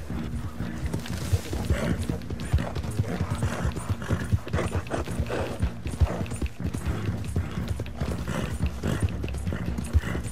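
A horse gallops in Red Dead Redemption 2 Online, its hoofbeats a fast, continuous clip-clop throughout, with rattling gear and occasional bursts of background noise mixed in.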